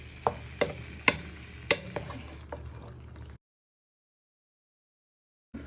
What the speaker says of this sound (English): As you can hear the sizzling.